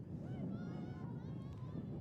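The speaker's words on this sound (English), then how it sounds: "And here comes one of those gusts we talked about earlier." Cold gust of wind buffeting the microphone at an outdoor girls' high school soccer game, a steady loud low rumble throughout with faint voices underneath.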